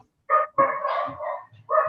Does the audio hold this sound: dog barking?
yes